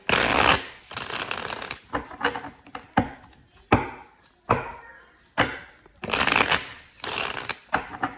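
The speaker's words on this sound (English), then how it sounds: "give a good shuffle there" Tarot cards are shuffled close up: long riffling bursts at the start and end, with sharp snaps and taps of the deck in between.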